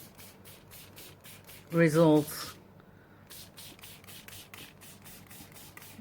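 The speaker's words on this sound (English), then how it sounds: "I also have some neon green, and I'm just going to spray it" Neon green spray paint hisses onto a still-wet art journal page in rapid bursts through most of the clip, interrupted by a brief spoken word partway through.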